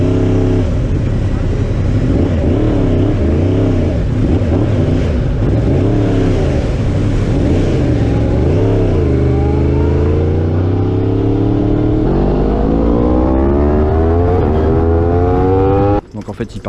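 Yamaha R1 race motorcycles on a circuit rev and accelerate away for the sighting lap, loud and close, with engine pitch rising and falling through overlapping revs under a talking voice.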